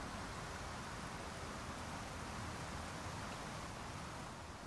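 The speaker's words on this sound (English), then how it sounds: "Also, right by the waterfall." A loud waterfall in the survival game Icarus pours in a dense, steady hiss of rushing water, continuous and unbroken throughout.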